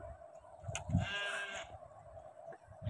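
Young lambs bleat in a rural Bengal village setting, one clear quavering cry rising over low background noise with a few soft knocks and rustles around it.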